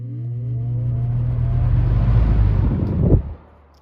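Kel-Aire box fan starting up on high speed, a steady close motor whir that builds in strength with a rattling loose cord, then cuts off sharply near the end.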